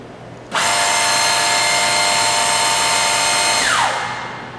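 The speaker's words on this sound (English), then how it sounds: "turn on the drill motor." A drill motor on an OMAL HBD bore, glue and dowel machine starts abruptly and runs as a loud, steady high whine with a constant hum, then winds down in pitch as it stops.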